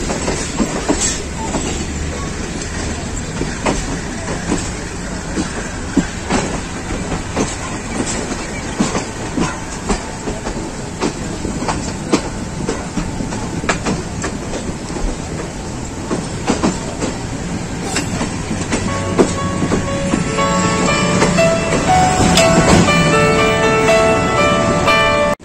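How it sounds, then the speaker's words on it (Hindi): A Pakistan Railways rail car crosses a railway bridge over the Jhelum River, loud steady rumble with rhythmic clickety-clack of wheels on rail joints, growing louder and more metallic toward the end. "और अब गाड़ी गुजरेगी दराए झेलम से।"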